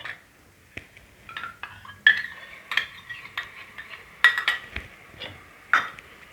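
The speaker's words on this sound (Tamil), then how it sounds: "கிளறி விட்டுப்போம்." A spoon stirs chicken biryani masala with yogurt in a pressure cooker pot. Scattered metallic clinks and scrapes come at an uneven pace over a soft, quiet background.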